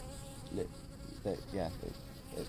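Honeybees buzzing close by while a Layens hive is opened for inspection, a continuous droning hum with a few louder swells as bees pass near, with no voices.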